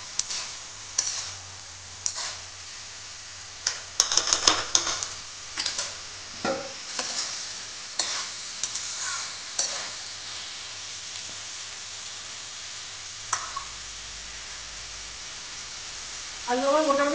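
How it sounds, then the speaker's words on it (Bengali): Vegetables stir-fried with spices in a pan, a continuous gentle sizzle broken by repeated clicks and scrapes of a spatula against the pan; someone speaks briefly near the end. "এখন এই মশলার সাথে এই সবজিগুলো ভালোভাবে কষাতে হবে।"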